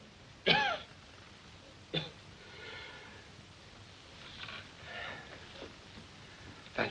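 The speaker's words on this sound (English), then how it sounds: "Suppose you wait till he quits coughing." A man coughs sharply a couple of times, with faint rough throat sounds between and another cough at the end, nearby in a quiet room.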